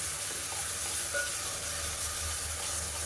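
Ground spice paste sautés in hot oil for biryani, giving a steady, close, dense sizzle with soft stirring underneath that stays constant throughout.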